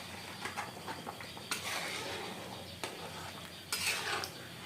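Kashmiri red chilli powder being stirred into a simmering chicken gravy, with spoon scrapes and clinks against the pot and soft bubbling in between.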